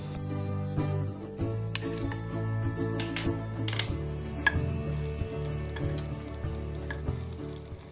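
Aromatics toast in a pot of oil, giving a steady close sizzle and fry. Scattered clinks and stirring scrapes break in now and then, and no voice is heard.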